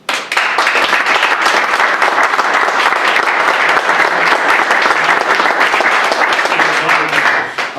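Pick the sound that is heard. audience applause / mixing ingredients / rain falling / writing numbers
audience applause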